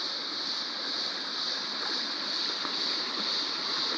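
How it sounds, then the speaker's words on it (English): Evans Creek on the Buckland Spur Track flows over rocks with a continuous, even hiss and babble. Its steady, moderately distant water noise fills the scene without pauses, and no one speaks. "I present to you the beautiful Evans Creek."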